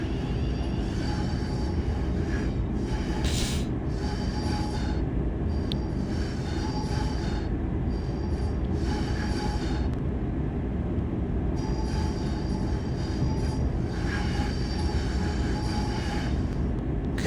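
A Class 350 electric train in Train Sim World 6, its heavy rumble rolling continuously while high, thin wheel-flange squeals rise and fade repeatedly over the top.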